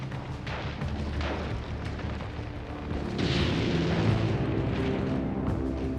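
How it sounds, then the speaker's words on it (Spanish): Continuous rumbling barrage of distant booms and rapid bursts, growing louder midway, like heavy cannon fire mixed with machine gun bursts, from Second World War fighting in Normandy. "Parece temblar bajo los cañonazos y las ráfagas de ametralladora."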